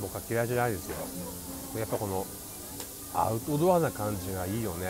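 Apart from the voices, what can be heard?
cicadas chirping at an outdoor dining area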